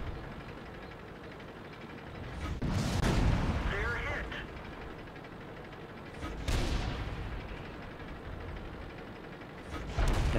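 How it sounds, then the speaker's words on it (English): Artillery fires in the World of Tanks video game: three heavy booming blasts land a few seconds apart over a low rumbling background, with some talk mixed in. "there's their artillery"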